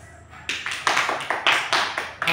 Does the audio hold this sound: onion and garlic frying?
no